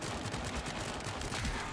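Dense, continuous gunfire from a video game horde mode on the Switchback map, a steady barrage of overlapping shots with no pauses, loud and close throughout.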